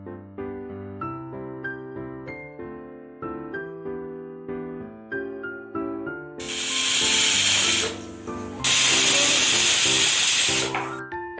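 Two long, loud hissing bursts of a pressure cooker whistling as it cooks peas and potato pulao, one after the other, over plucked background music.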